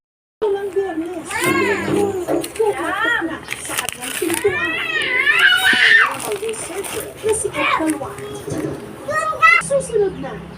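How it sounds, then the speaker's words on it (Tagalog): Children play noisily indoors at home, shrieking and chattering loudly in overlapping bursts, with high excited voices rising and falling throughout. "Ingay mga bata."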